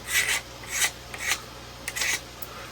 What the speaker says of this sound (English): take the back of the knife and just run it down the seam